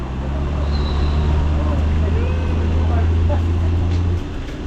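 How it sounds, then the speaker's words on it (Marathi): A goods truck carrying a Hanuman idol rolls in along a village road, its low engine drone steady and close under a wash of road noise while people talk nearby. "ट्रक पण आला पाठीमागून."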